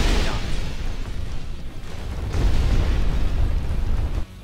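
Main guns fire in the Instruments of Destruction video game, loud rumbling explosion blasts with a sharp burst at the start and a heavy boom near the middle, a voice talking under the noise.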